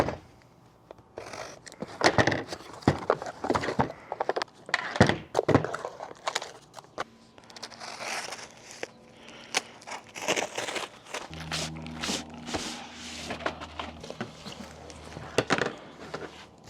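Rustling and crinkling of plastic wrapping and cardboard as a hood solar panel for a 3rd-gen Toyota Tacoma is unpacked, with repeated thumps and handling knocks throughout, fairly close and steady.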